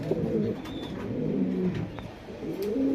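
An African Mundian hen pigeon and nearby birds give low, steady cooing, a continuous close murmur with a faint chirp or two and no talk.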